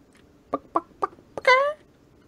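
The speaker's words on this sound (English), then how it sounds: "Why do you hear a dying chicken?" A chicken being hurt in Minecraft: three or four short, clipped clucks in quick succession, then a sharper rising squawk, loud and close against near silence.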